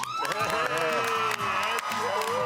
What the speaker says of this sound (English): Listen to the crowd here at Fed Square. They're going nuts.